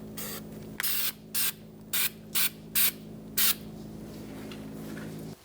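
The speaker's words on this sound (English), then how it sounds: "I'm going to put some anti-seize." Short hissing bursts of anti-seize spray on rear brake parts of a 2002–2006 Honda CR-V, six spurts in an even rhythm, close and clear over a faint steady background hum.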